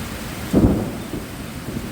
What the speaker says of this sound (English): That wind sounds intense.